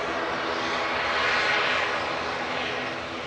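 An Aer Lingus UK ATR 72-600 turboprop airliner bound for Belfast from Manchester Airport passes as a steady engine drone, with a faint low propeller hum. The drone swells slightly at mid-point and then eases off.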